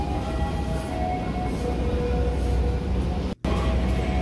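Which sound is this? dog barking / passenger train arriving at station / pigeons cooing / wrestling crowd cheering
passenger train arriving at station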